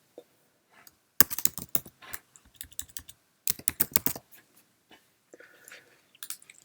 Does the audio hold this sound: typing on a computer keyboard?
yes